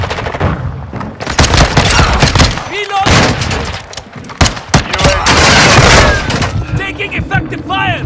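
Continuous, loud gunfire in Call of Duty: Modern Warfare II on the Shipment map, with rapid overlapping bursts and booming impacts filling the whole stretch, and shouted game voices mixed in.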